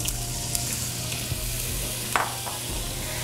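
Chopped yellow or white onion sizzles and crackles in hot coconut oil in a pan, a steady close frying hiss broken by a few stirring scrapes, with no voices.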